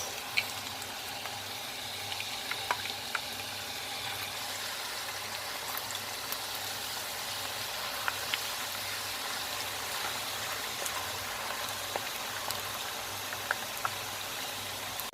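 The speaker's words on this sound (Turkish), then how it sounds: "Patateslerimiz bitene kadar kızartmaya devam edeceğiz." Steady, continuous sizzling and crackling of potatoes frying in hot oil, a dense bubbling hiss with occasional small pops throughout.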